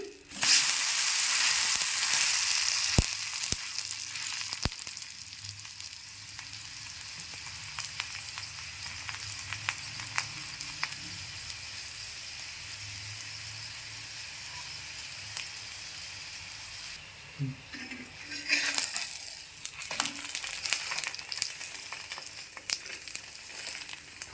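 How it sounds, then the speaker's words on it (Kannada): A paneer paratha frying in butter on a hot pan gives a steady, close sizzle and crackle with a few sharp pops and scrapes as it is flipped, quieter through the middle before the sizzle flares again. "ಎರಡು ಸೈಡ್ ಗೋಲ್ಡನ್ ಬ್ರೌನ್ ಬರೋವರೆಗೂ ಬೇಯಿಸ್ಕೊಳ್ಳಿ"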